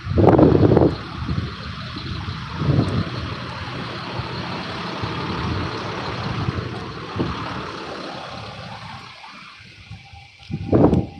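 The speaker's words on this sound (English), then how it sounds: "how do you not hear the bus beeping like that?" A bus idles outside a house, with a steady engine rumble and a broad whoosh. Loud bursts of noise come near the start and again near the end, and no distinct beeping stands out from the rumble.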